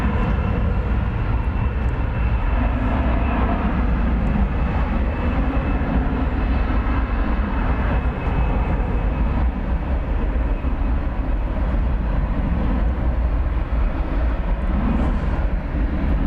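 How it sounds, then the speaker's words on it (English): An American Airlines Airbus A321 arriving at DFW from LAX, heard as a steady, loud broadband jet roar that holds evenly throughout with no voices. "I want to pick up flight 2024 coming in from LAX, an Airbus A321, American Airlines."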